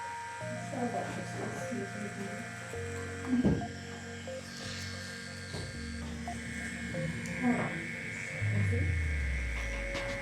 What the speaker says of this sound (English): this is just an 18 round shader that I'm using on a 4mm stroke machine to fill in those blacks